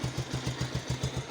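A Bajaj Pulsar motorcycle, checked at a regular service after timing chain noise and oil pump trouble, idles with a steady, even low thump of quick beats, close and moderately loud with no talking.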